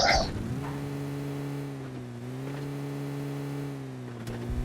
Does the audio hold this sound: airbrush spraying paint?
no